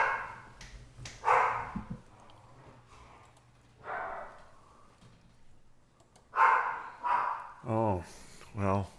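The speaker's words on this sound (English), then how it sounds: "we hear all the dogs, don't we?" Several dogs bark and yip in short bursts at a distance, scattered over a steady low hum, with a few quiet gaps between the outbursts.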